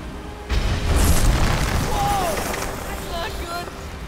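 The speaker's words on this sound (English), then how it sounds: "Is the whole bat cave collapsing?" A loud boom erupts as the bat cave collapses in the Lego Batman 3 video game, followed by a sustained rumbling roar with scattered debris sounds, while a voice speaks over it.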